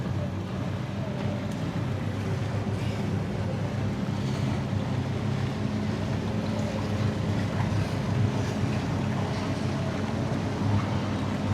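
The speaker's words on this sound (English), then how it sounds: "It's a law enforcement boat of some sort coming in." A law enforcement boat approaches off Crab Island near Destin, Florida, its steady low motor hum blending with constant wind buffeting and lapping water on a busy holiday weekend.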